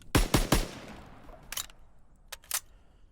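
A two-shot, non-automatic rifle fires in a Call of Duty Pacific war setting, with three sharp shots in quick succession, then a pause and a few more cracks at uneven intervals, each trailing off into a short echo.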